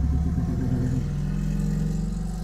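A motorcycle engine revs loudly in the multiplayer video game Kerbal Space Program, a steady close throbbing drone that dips slightly in pitch partway through.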